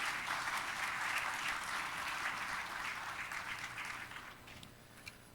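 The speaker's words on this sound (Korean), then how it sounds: "다 같이 박수로 격려해 주시면 감사드리겠습니다" Church congregation at a Korean Presbyterian service in Hartford applauding the pastor, steady sustained clapping from a crowd that holds for several seconds and then slowly tapers off.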